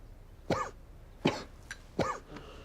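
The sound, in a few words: coughing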